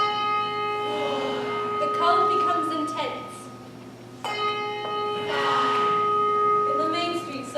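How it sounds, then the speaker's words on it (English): An old church tower bell strikes the hour with ringing, gruff tones, one strike at the start and another about four seconds later, each sustaining under a narrator's voice. "its gruff-old bell strikes the hour of 7"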